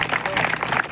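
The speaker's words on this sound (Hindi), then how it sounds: "तो भील समाज के लिए एक बार ताली जोर से।" Crowd at a protest rally in Bhilwara claps loudly, a brief dense burst of many hands with voices mixed in.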